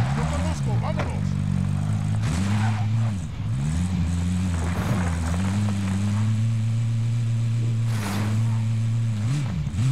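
Car engine in Call of Duty: Modern Warfare, droning steadily with a low humming tone that briefly dips and rises as the driver shifts or eases off, joined by a few short knocks and bursts along the way.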